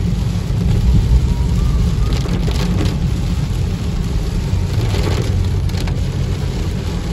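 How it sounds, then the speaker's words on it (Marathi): Heavy monsoon rain hammers down on the Khopoli-Pali road in a dense, loud, constant roar, with a low rumble of traffic underneath. "भयंकर पाऊस लागता तो"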